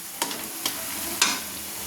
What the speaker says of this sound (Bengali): যতক্ষণ না মশলাটা ভাজা হচ্ছে আমি ততক্ষণ নাড়তে থাকবো।